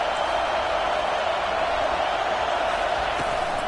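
A home crowd roars in a football video game as the defense faces third down, a steady broad wash of stadium noise holding at even, moderate loudness throughout.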